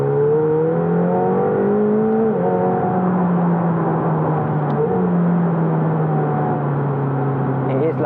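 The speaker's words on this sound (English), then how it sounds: "It is louder as well, the exhaust." A McLaren 720S supercar in track mode drones steadily from inside the cabin, its exhaust tone holding a low harmonic hum that dips at gear shifts around two and five seconds, loud and continuous with no talking.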